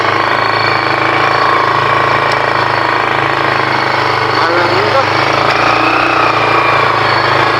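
A motorized tricycle's small engine runs steadily nearby, a loud, even buzzing drone with no breaks, while people talk over it.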